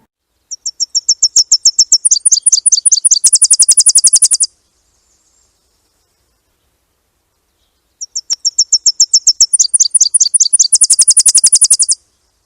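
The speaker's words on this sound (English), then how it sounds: "Their song is a 3-part song with 3 syllables, just like Tennessee" A Tennessee-like warbler sings twice, each song a high, loud, three-part series of quick repeated notes speeding into a rapid final trill, separated by several seconds of silence.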